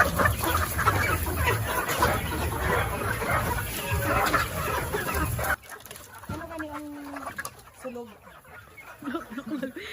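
Native Darag chickens cluck and squawk agitatedly in their pen, a loud dense flock chorus at first that drops off to scattered nearer calls and clucks.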